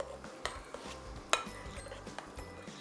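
A spoon stirs a yogurt soup mixture with chickpeas in a pot, giving faint, quiet scraping and a couple of light metallic clinks against the pot.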